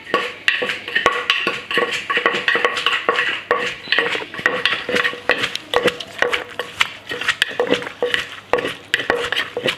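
Thai papaya salad being mixed in a mortar, with irregular clacks and knocks of pestle and utensils against the bowl, close and busy, with no talk.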